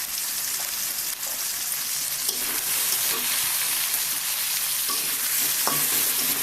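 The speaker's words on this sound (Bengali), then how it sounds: "দিয়ে আলুটা খুব সুন্দর করে ভেজে নেব আমি অতিরিক্ত তেল ব্যবহার করব না" Salted, turmeric-coated potatoes frying in a little oil in a pan, a continuous dense close sizzle with occasional light stirring clicks throughout, no voices.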